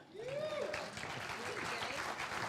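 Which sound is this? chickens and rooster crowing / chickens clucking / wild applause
wild applause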